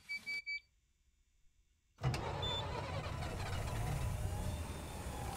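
An articulated MAN Lion's City LPG bus in the simulator game Omsi 2 starting up: a short electronic chime, about a second of silence, then the engine catches and settles into a steady, loud, rumbling idle.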